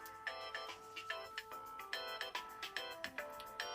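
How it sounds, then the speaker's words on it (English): A default iPhone ringtone plays alone, a bright, repeating pattern of plucked chime notes in a steady quick rhythm, clear and close with no talking. "So here are some of the default ringtones you can get on the iPhone"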